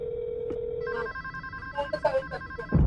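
A phone ringtone plays in the Roblox Lakehouse horror game: a sustained tone gives way to a short melodic ringing pattern, loud and close, ending in a burst of noise.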